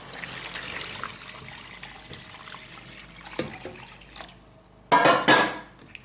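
Broth is poured into a cooking pot, making a continuous liquid trickle and splash, with a few louder bursts of splashing near the end.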